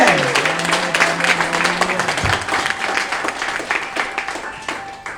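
A church congregation applauds, a dense run of clapping that tapers off slightly, with a sustained vocal or organ tone at the start and voices mixed in.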